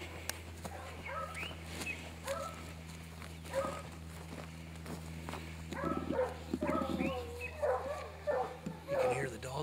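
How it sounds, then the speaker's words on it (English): Hunting hounds that have treed a caracal bark and yip repeatedly, sounding somewhat distant over steady background hum, while someone talks nearby. "You can hear the dogs in the background."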